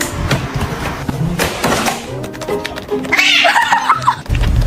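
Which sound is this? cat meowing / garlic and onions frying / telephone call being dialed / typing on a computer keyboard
cat meowing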